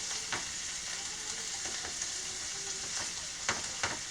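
A bacon, tomato, onion and pepper omelet sizzles steadily in a pan, with a constant hiss and a few sharp crackles and pops spread through.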